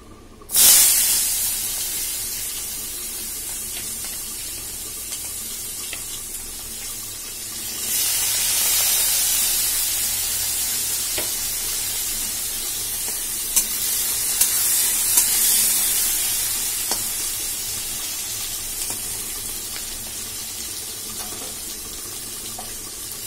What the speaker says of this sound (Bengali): পেঁয়াজ আর কাঁচা লঙ্কাটাকে আমি ভালো করে ফ্রাই করে নিয়েছি।